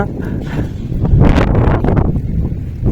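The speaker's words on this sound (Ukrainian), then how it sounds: "Вітер сильний, пішли звідсіля. Бо щось вітер такий піднімається." Strong seaside wind in Tavernes buffeting the microphone in a steady low roar, swelling and gusting throughout, with a voice partly mixed in.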